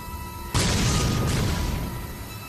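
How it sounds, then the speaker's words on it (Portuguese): A naval shell from the Prince of Wales' main gun, 35 centimetres, striking and piercing the bow of the German battleship Bismarck: one sudden loud boom with a rumbling roar that slowly fades over about two seconds. "Um projétil de 35 centímetros de um canhão principal atravessou a proa do Bismarck"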